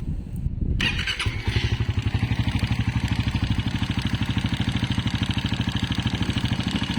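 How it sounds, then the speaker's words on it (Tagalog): Raider 150 Fi motorcycle engine with a worn tensioner, idling up close with a steady, rapid mechanical ticking clatter riding over the engine's pulsing rhythm after a brief startup burst. "Isa sa mga na-experience ko nga issue amo ang lagatik issue sa Raider 150 Fi."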